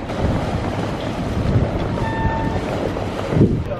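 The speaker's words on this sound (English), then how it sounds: "So here's the ferry, which we're about to get on." Steady low engine rumble of a ferry to Fuerteventura in the Canary Islands, with wind buffeting the microphone and faint water wash, a few thumps near the end.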